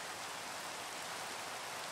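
Steady, soft rain hisses in Minecraft as an even, continuous patter with no breaks and no voices.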